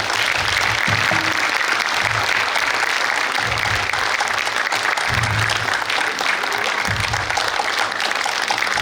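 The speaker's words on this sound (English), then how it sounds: "let's once again applause for all of us for being here and investing this time" An audience claps steadily throughout the full stretch at a District 41 Toastmasters meeting, with dense, even applause from a roomful of people and no break.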